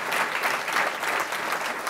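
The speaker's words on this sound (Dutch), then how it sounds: "Een groot applaus voor Niels en de medebewoners" Steady, dense applause from a crowd, sustained clapping at an even level with no voices standing out.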